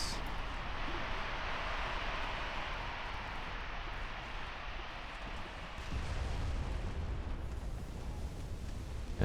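Torpedo hits and explosions rock a warship in a 1919 naval strategy game, heard as a steady, dense roar of blasts and rumbling that swells louder near the end, with no voices.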